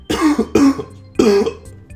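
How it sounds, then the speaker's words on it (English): Three harsh coughs from a sick person in quick succession, close and loud, each a short raspy burst with brief gaps between them. "Coughing, I'm sick."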